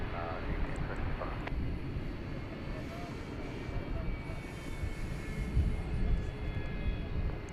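An American Airlines jet lands at night on runway 18 right at DFW Airport, a steady, distant roar of aircraft engines with a broad wash of noise, heard from the ground.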